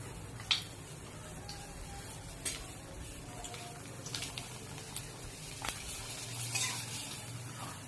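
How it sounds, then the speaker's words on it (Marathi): Sabudana and potato papads frying in hot oil: a faint, continuous sizzle with scattered sharp clicks and taps of a utensil, heard close but quiet, with no one speaking. "आता आपण हे पापड तळून घेऊया।"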